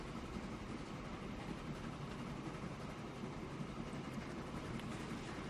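A train pulls into a station in the Transport Fever video game, a quiet steady rolling rumble with faint rail clatter that keeps going at an even level.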